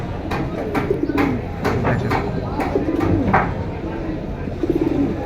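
Domestic pigeons in a dealer's sale collection coo repeatedly in soft, rolling phrases at close range, over a steady background of voices and room noise.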